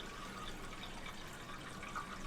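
Steady flowing, trickling water from an overflow in the middle of a home aquarium filtration system plumbed to two tanks, a continuous close wash with faint gurgles and no voices.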